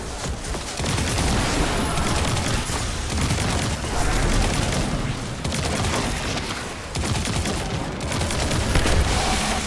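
Destiny 2 combat fills the space with a dense, continuous wash of gunfire and booming impacts, steady and loud throughout, with no voices on top.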